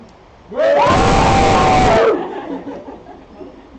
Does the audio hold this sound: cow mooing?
no